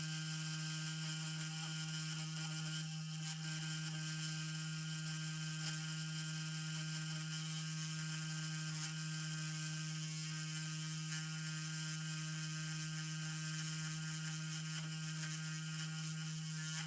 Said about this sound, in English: Definitely a lot for this little grinding pen,